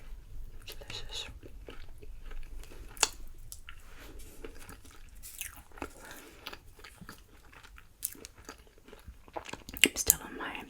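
Close, wet chewing and crunching of loaded potato skins topped with nacho cheese and jalapeños, with irregular bites and squishy mouth sounds throughout, intimate and steady.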